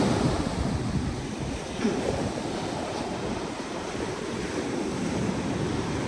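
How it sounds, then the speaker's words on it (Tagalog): Strong ocean waves breaking on a beach on Kauai, Hawaii, form a constant churning surf roar with wind rumble, loud and close, without pause and with no voices. "Ang lakas talaga ng alon."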